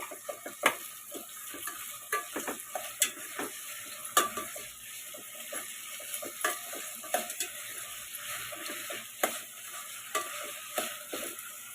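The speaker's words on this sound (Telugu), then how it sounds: "టమాటా, పచ్చిమిర్చి ఇవి కూడా వేసి కలుపుకున్నాము." Tomatoes and green chilies fry in a pan for a restaurant-style veg biryani while a utensil stirs them, giving rhythmic scraping clinks over a soft, steady sizzle, close by, with no talking.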